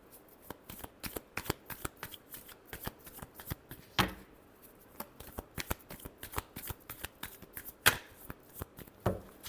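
Tarot cards are shuffled by hand, giving a steady series of crisp, snappy riffles and flicks, close and clear, with a few sharper slaps among them.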